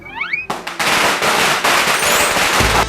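Chinese New Year firecrackers burst near a shrine in Chiang Mai's Chinatown, a loud, close string of rapid cracks and pops rattling continuously after a brief voice at the start.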